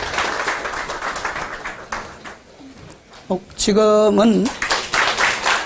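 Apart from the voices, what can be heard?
church congregation applauding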